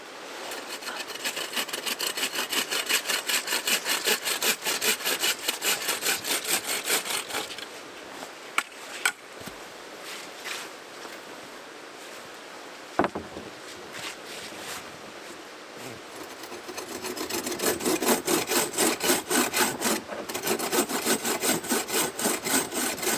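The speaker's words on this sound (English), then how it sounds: "Well, that saw is not great." A hand saw cuts wood at a winter tent camp with steady back-and-forth rasping strokes, close and rhythmic. The strokes pause briefly midway with a few knocks, then resume at a brisk pace.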